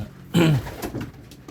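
A single soft bird call, cooing like a pigeon, sounds once nearby, followed by faint rustling.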